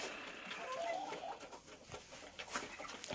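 A chicken clucks softly a few times in short, choppy bursts, faint and close, with light rustling and no talk.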